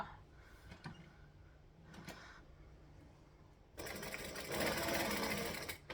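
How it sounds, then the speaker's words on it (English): Sewing machine chain stitching a bag base to a side wall: a few soft clicks and handling sounds, then a loud, steady mechanical whir of the machine running for the last couple of seconds. "since I'm on a chain stitching roll, I'm going to grab the base of the bag and one of the side walls and stitch them together here"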